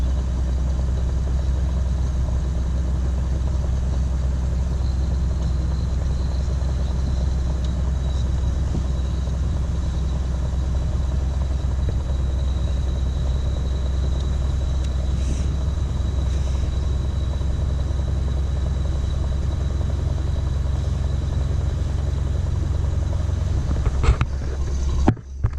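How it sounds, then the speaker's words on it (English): A Nissan R31 with a manual gearbox conversion runs steadily, its engine drone and a faint whine from the gearbox holding a constant level for the whole stretch, with a brief clunk near the end. "The box is making a weird sound."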